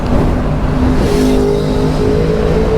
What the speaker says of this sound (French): ils roulent vraiment vite sur le périph'